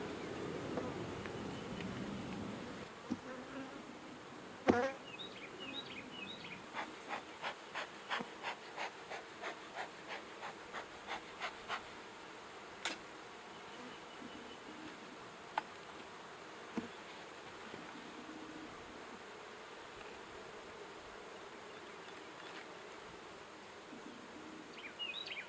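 Honey bees buzz around an open beehive during a hive inspection, making a faint continuous hum with a run of short clicking sounds and a few sharp taps in the first half.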